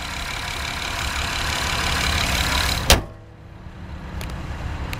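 A 2012 Acura TL SH-AWD engine hums steadily at idle, a broadband running noise that cuts off abruptly after a sharp click near the three-second mark, leaving a quieter murmur and a couple of faint ticks.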